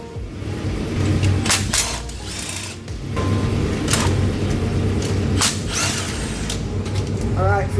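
A ratchet removes the transmission cooler line bolt and bracket on a 2015 Chevy Silverado with a 6L80 transmission, giving repeated bursts of close metallic clicking over shop background.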